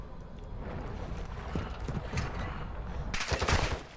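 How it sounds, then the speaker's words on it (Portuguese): Gunfire in Call of Duty Warzone DMZ at a contested airport, a rough burst of shots under steady game noise with a louder, denser volley near the end. "Tô levando tiro aqui!"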